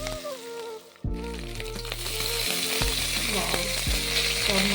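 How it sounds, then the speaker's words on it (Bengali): Rohu fish pieces fry in a pan, a loud, close, steady sizzle with crackling, plus a few scraping and clinking stirs against the pan. A short sudden break interrupts the sizzle early on, and no one speaks. "তো চলো মাছগুলি খুব ভালোভাবে ভেজে নিই।"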